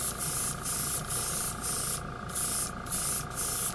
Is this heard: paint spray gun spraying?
yes